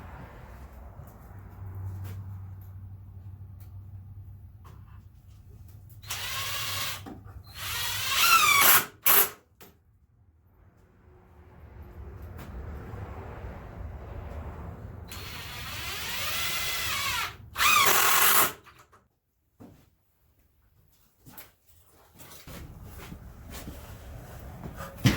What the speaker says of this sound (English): Now we can put a few screws in that.